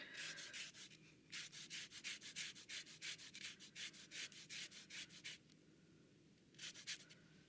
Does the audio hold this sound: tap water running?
no